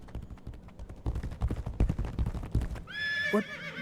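A horse in the video game Legacy of Kain: Ascendance gallops with a rapid, loud run of hoofbeats close by, then lets out a sharp, shrill neigh near the end, with nothing else over it.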